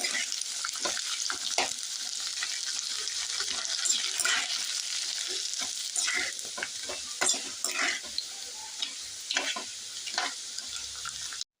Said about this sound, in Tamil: இப்போ வத்த பொரிக்க எண்ணெய் ஊற்றிருக்கேன். இப்போ வத்த பொரிச்சுக்கலாம் புளிக்குழம்புக்கு